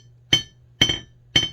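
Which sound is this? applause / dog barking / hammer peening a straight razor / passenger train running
hammer peening a straight razor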